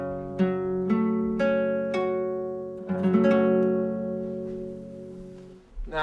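Acoustic guitar playing an open major chord, strummed several times as separate strokes that ring and decay, then let sustain, clear and close with no talking.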